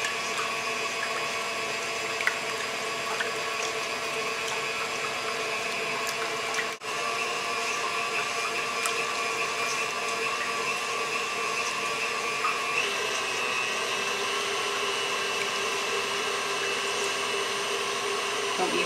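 An electric mixer beats a milk tart mixture to stiff peaks with a steady, continuous whirring drone. It runs nearby at an even level for the whole stretch, with no talking.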